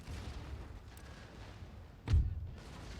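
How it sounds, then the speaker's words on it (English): A single cannon shot booms in a Napoleonic-era battle in Empire: Total War, one sharp, fairly distant blast that briefly rises over a low ambient battlefield rumble, with no talk. "Cannons do a lot more against cavalry than they do infantry, apparently."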